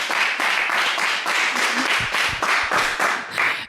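Loud, dense applause and clapping from a room of facilitators at a gathering, steady throughout with no talk over it, swelling slightly near the end.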